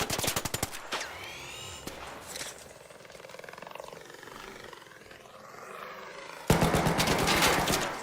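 Automatic gunfire from a weapon in the video game Arc Raiders, loud rapid bursts at the start and a dense sustained volley near the end, with game effects between.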